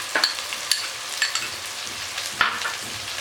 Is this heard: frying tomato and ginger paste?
yes